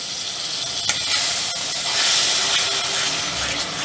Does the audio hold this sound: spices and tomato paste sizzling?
yes